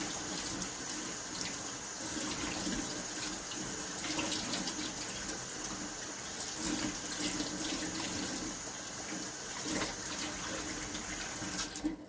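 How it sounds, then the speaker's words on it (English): Beans get rinsed under a running kitchen faucet, a steady close rush of water splashing into a sink for about twelve seconds with slight shifts as the beans are moved. "I'm going to actually put it under the faucet and rinse my beans real good"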